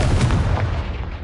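A Confringo fire spell exploding in the video game Hogwarts Legacy: a single loud, deep boom with rumbling low end that fades over about a second.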